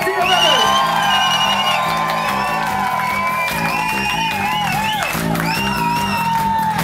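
A festival crowd cheers and whoops loudly for a band member being introduced on stage, shouts and whistles rising over a steady roar, with music or voices mixed in.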